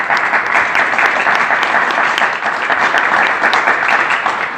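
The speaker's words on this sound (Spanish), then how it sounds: "un aplauso" Loud, dense audience applause at a book presentation, continuous clapping from a full room holding steady throughout.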